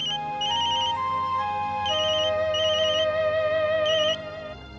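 A mobile phone ringtone plays loudly and continuously, a bright electronic melody with repeating high chiming notes for several seconds before cutting off.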